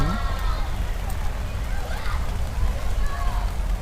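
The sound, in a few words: rain falling during outdoor parade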